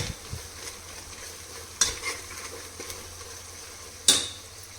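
Garam masala being stirred in hot oil for a suvarna gedde (elephant foot yam) palya, a steady low sizzle with scattered sharp scrapes and clinks of a spoon against the pan.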